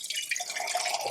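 Spring water pours steadily into a water filter at an off-grid log cabin, a close, continuous splashing trickle heard alone.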